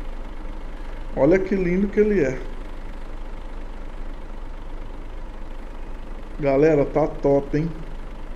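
A Volvo FH 540 truck engine idles with a steady low rumble throughout, while someone talks over it in two short bursts.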